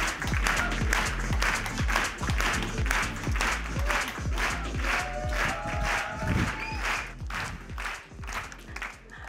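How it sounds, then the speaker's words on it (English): A conference pitch audience applauds as a speaker walks up, a continuous spread of clapping mixed with a voice speaking over it and thumping footsteps or stage knocks. "Keep the applause going."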